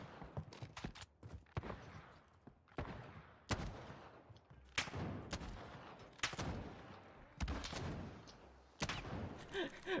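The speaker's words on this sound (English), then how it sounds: "We're just taking pop shots at each other across the map." Call of Duty gunfire crackles in a long, irregular string of sharp, loud shots, some single and some in quick clusters, with no one talking.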